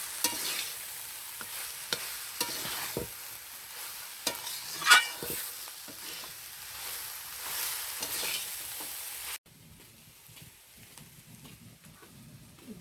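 Carrot sautéed with spices stirred in a pan for a carrot and prawn dish, a steady soft sizzle broken by scraping spatula knocks, then dropping to a quieter, fainter frying for the last few seconds.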